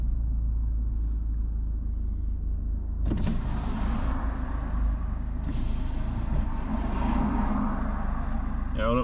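A car's power window motor whirrs as the window opens, heard from inside the cabin during a road trip in Bristol, over a steady low engine and road rumble with no talking.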